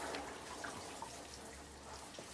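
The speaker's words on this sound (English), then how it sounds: "Now this is just normal tap water, nothing special." Ordinary tap water runs into a plastic barrel used for curing reef rock, a steady hissing flow with faint drips and splashes, close and continuous, with no voices.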